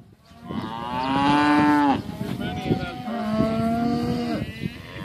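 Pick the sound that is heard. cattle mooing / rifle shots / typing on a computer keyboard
cattle mooing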